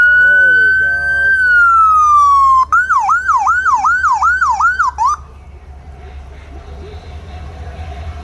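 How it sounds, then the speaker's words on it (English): Crowley County ambulance in a small-town parade in Ordway, Colorado, blasting its siren up close: a long sweeping wail, then rapid yelp cycles for a few seconds before it cuts off, leaving low engine rumble and crowd murmur. "Here's the Crowley County Ambulance."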